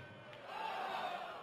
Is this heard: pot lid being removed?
no